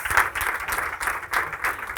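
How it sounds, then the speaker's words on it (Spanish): Audience applause at a hospitality summit, a couple of seconds of close, moderately loud clapping in uneven bursts, with no voices over it. "Fuerte aplauso para Marcos"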